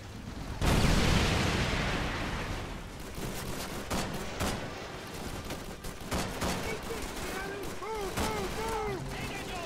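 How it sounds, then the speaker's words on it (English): Gunfire in the World War II shooter Call of Duty 3 opens with a loud burst of shots, then settles into scattered shots and battle noise. Voices shout orders over the shooting throughout. "You guys are shooting"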